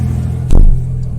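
A Porsche GT3 tuned by Shiftech blips its engine once on a race circuit, a sharp rev rising over a steady engine drone and then settling back.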